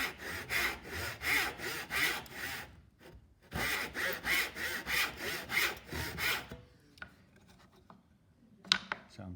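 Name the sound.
tenon saw cutting wood along a marked line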